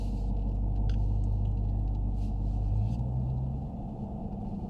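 A 2020 Dodge Challenger Hellcat Widebody with an automatic transmission is on the move, its deep, steady engine rumble droning loudly throughout, with the tone shifting slightly partway through and no talking.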